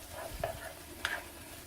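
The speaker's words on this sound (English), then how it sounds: "Now this meat's been cooking pretty good." Meat for stuffed bell peppers cooking in a pan, a soft steady sizzle with a couple of faint scrapes or stirs, close by and without talk.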